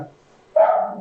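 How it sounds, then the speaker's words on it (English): A pet dog gives a single sharp bark midway, close and loud, with a faint voice just before it. "not my tongue, that's my dog"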